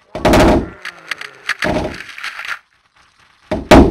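Machine Gun Pomegranate plant firing in Plants vs Zombies 2: three loud, clipped bursts of rapid cartoon gunfire separated by short silences, with no talking.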